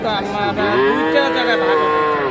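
Cattle at a livestock market, a single loud, close, drawn-out moo with a wavering pitch that fills the moment over faint background noise.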